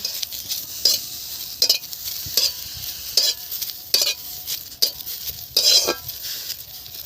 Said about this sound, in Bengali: শুকনো কড়ায় নিম পাতাটা ভেজে নেব ভালো করে। এবার এইভাবে নাড়তে থাকবো।